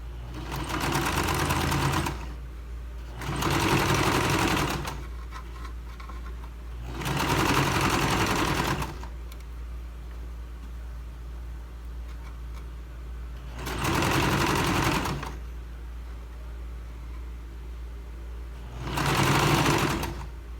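Sewing machine stitching a seam on a princess-cut blouse, close and loud, running in five bursts of about two seconds each separated by quiet pauses.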